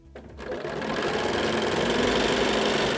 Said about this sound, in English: This is the seam I need to sew, so I'm grabbing it, and then I will line it up and sew it as well.